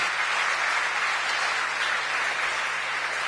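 A church congregation applauds during a sermon, a dense, even wash of clapping that holds steady throughout without speech.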